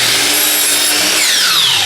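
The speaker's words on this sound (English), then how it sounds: "So we'll cut one miter" A miter saw slices through a wooden shingle with a loud, steady, high whining roar that fills the whole moment, close up and without talking.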